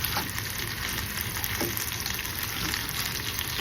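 Gulf white shrimp frying over medium-high heat in a jambalaya pot, giving a steady, close sizzle with a bright hiss that holds even throughout, without pause or talk.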